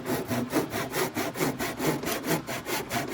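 Hand saw cutting a wooden board for a door stop, a steady back-and-forth rasp of about eight strokes close by, with no talk.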